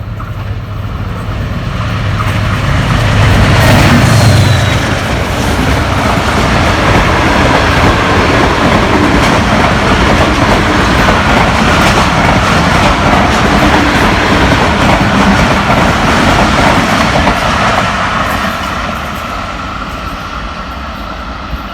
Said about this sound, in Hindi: काफ़ी आला स्पीड में आ रही है हमारी 115 मूसा पाक एक्सप्रेस